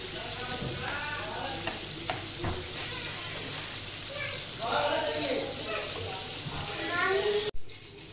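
Chicken pieces frying in a pan for chicken Manchurian, a steady close sizzle with occasional stirring clinks and scrapes, while a voice talks over the cooking and a loud knock lands near the end.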